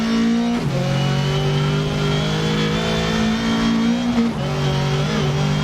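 Ford Fiesta RS rally car engine in the game Dirt Rally 2.0, a loud sustained rev that dips briefly between gear changes and climbs again, steady and close.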